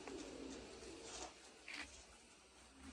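Soft pigeon coos repeat a few times at a distance over a low, steady background hum.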